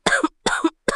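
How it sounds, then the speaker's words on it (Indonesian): Three hard, close coughs from a man, evenly spaced and each with a short rasping tail, loud and on their own with no talk. "Leonard tiba-tiba batuk keras."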